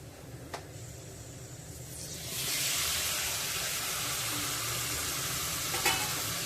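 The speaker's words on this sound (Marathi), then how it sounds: "आता त्यामध्ये आपण पाकड घालून घेऊया" Pieces of stingray added to a spiced oil tempering and stir-fried: quiet sizzling with a couple of clinks, then a sudden loud hissing sizzle as the fish hits the pan, continuing steadily with a light clank near the end.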